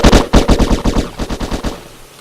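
Rapid automatic gunfire in the video game Genocide Dolphins: a loud, close burst of about a dozen evenly spaced shots that tails off near the end, with no voices.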